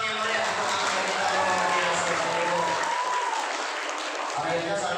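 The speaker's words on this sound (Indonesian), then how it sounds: "Kita berikan tepuk tangan yang meriah untuk anak kita." Applause at a mosque Isra Mi'raj gathering, greeting a young child, with dense clapping mixed with voices, steady and fairly loud throughout.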